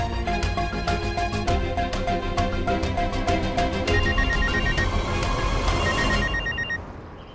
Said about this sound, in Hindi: बार बार मुझे फोन करती जा रही है।